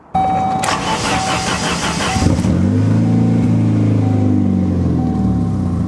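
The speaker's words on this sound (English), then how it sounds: "as you guys can hear, it definitely needs an exhaust, but this thing runs really, really well" A Saab car engine with no exhaust cranks and catches, then idles loud and raw with a rough, unmuffled rumble close by.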